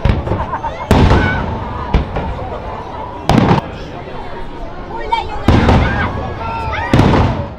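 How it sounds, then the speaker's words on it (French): Several booming fireworks bursts go off at irregular intervals over the lakeside quays of Ouchy, each one loud and sharp, over a steady murmur of a crowd in the background. "Je vais filmer un peu ce soir les feux d'artifice sur les quais d'Ouchy"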